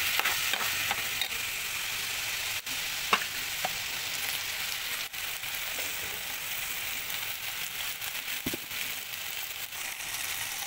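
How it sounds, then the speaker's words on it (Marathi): Kolam rice grains being stir-fried in ghee for jeera rice, a steady close sizzle with scraping and stirring clatter throughout, no talking. "मस्त हे तूप लागेपर्यंत आपण परतून घेऊया"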